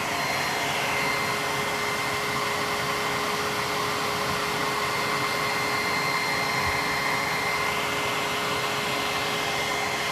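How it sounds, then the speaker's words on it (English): A hair dryer drying paint roars steadily and loudly the whole time, a constant broadband whoosh with a faint motor whine and no voices. "I hate having to blow dry on camera."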